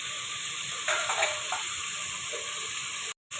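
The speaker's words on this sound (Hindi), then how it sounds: "आलू भी डाल देंगे और इनको फ्राई।" Potatoes fry in oil in a pan for a mixed vegetable dish, giving a steady close sizzle with a few stirring scrapes, then a brief cut to silence near the end.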